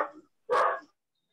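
A dog gives two short barks close by, a brief yap followed by a louder bark, then silence.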